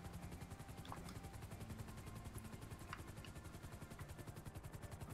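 A helicopter in the video game GTA 5 chops away with a fast, steady rotor pulse, heard faint and continuous with a few small clicks over it.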